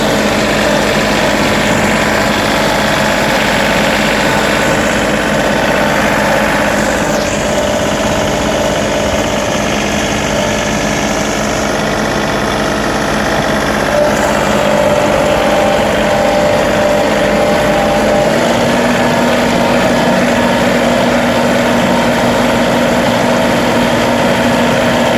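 A John Deere 3038E compact tractor engine idles steadily up close, a loud continuous low rumble with vibration and slight shifts in pitch, no talking.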